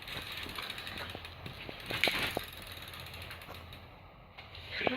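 A bicycle tyre, a little dirty, rubs against the brake as the wheel spins, giving a steady close scraping whir with faint rhythmic ticks and a few sharper clicks, no speech.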